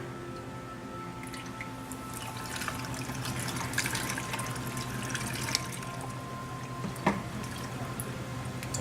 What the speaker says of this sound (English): And we'll add our brine.